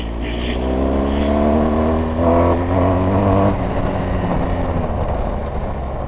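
A BMW GS adventure motorcycle accelerates hard, its engine a loud, steady, close drone that climbs in pitch, eases briefly, then pulls again, with no talk over it.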